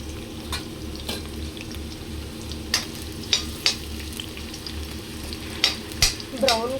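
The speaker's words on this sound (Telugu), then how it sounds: "బ్రౌన్ కలర్ వచ్చేంతసేపు ఫ్రై చేసుకుందాము." Onions frying in hot oil in a pan for a chicken curry, a steady close sizzle with repeated scraping clicks of a spatula stirring against the pan.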